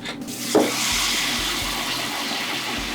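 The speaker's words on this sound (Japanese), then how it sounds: "入れたてはシュワシュワシュワっていうね、 音がこのパチパチパチパチっていう音が聞こえると思うんですけれど" Kisu fish tempura fries in hot oil, a steady, close hiss of bubbling that runs throughout at an even level.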